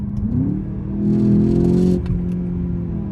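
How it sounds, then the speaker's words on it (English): A Volkswagen Jetta GLI engine revs up with a rising whine, holds, then drops sharply as a gear changes, settling into a lower steady hum. "Let me do a little bit of shifting myself so you guys can hear the car"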